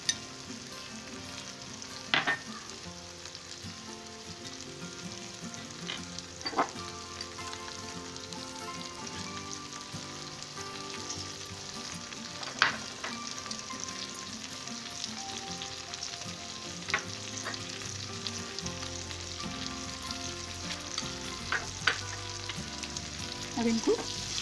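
Stuffed okra (bharwa bhindi) frying with dry spices in a pan, a steady close sizzle running throughout with occasional light clicks and stirring scrapes, no voices.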